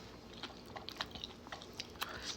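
Someone eats rice with Thai tai pla fish curry, giving quiet, close chewing and soft crunchy bites in an irregular rhythm, with no talk.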